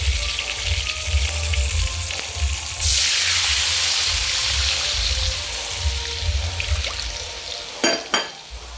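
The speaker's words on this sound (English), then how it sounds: "We're going to add water." Water splashes and hisses as it pours into a hot pan for cooking pancit canton, a steady sizzling rush with a few clinks near the end.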